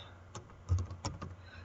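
A computer keyboard is tapped while entering a formula in Excel, a handful of soft, irregular clicks close by and quiet.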